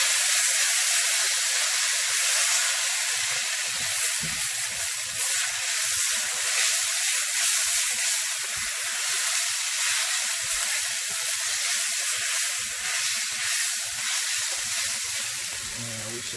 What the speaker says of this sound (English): Now we just gonna fry these up.